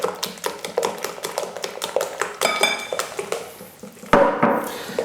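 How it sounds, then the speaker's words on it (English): A whisk beats lemon madeleine batter in a bowl, producing rapid, rhythmic clinking taps of metal against the bowl, close and fairly loud, with a louder knock near the end. "we just keep giving it a good old whisk"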